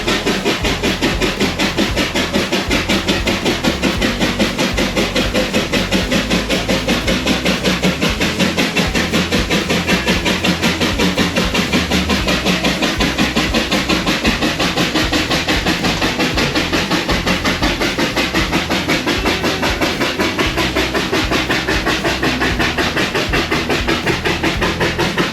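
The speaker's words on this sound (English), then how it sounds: "Here we have a steam traction engine pulling a floor-bottom plow with ease." A steam traction engine pulling a plow chuffs and rumbles in a fast, steady mechanical rhythm, loud and close, running continuously with no voices over it.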